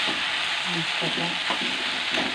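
Spiced chhatu mushrooms fry in a pan with a constant loud sizzle, and a utensil stirring them scrapes and clinks briefly in bursts.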